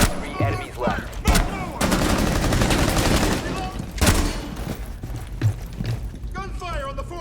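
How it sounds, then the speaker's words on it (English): Rainbow Six Siege gameplay with repeated bursts of automatic gunfire, sharp loud volleys punctuated by single shots, while a voice talks over the action. "Gunfire on the 4th floor."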